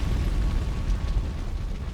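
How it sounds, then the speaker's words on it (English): An explosion in Resident Evil 2, a loud, deep rumbling boom that roars continuously for about two seconds with no pause. "And obviously there's gonna be an explosion."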